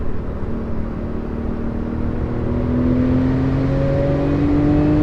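A tuned 660-horsepower Porsche 911 Turbo S accelerating hard, a loud close engine drone rising steadily in pitch as it pulls through the gear, with no talk over it.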